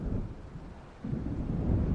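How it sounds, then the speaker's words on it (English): Distant rolling thunder rumbles under a dark storm setting in the video game Alan Wake, a low, steady growl that swells louder in the second half, with wind noise and no speech. "It seems there's a storm coming."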